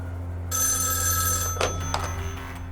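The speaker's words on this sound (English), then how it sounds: "Sheriff Crowder receives a phone call" A telephone bell rings steadily from about half a second in, bright and continuous over a low background hum, with a couple of brief knocks near the end.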